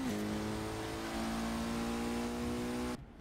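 Sustained high revving of a car engine held at the redline in the Forza 6 racing game, a loud steady buzzing tone that holds for about three seconds and then cuts off abruptly.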